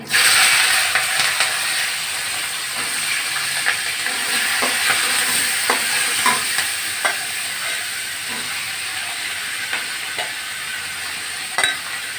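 Beans are stir-fried in a pan, a steady close hiss of sizzling oil broken by scraping and clicking strokes of a spatula against the metal, with a loud burst at the start.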